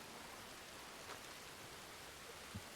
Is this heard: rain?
yes